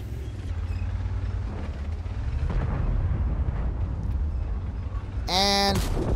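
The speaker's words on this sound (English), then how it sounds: "And here comes the artillery." Artillery shell impacts in the tank game World of Tanks, heard as a continuous low rumbling roar of battle noise that swells into a loud burst near the end.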